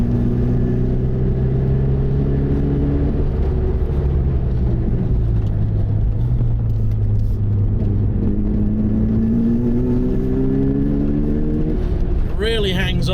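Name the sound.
Mazda RX-7 driving on race track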